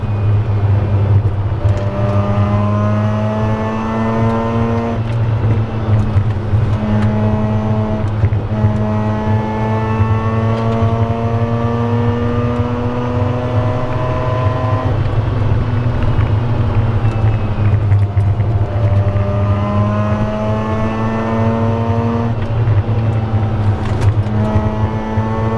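A Mazda RX-8 on a racetrack revs hard, its engine note climbing repeatedly through the gears in long rising sweeps, loud and close throughout.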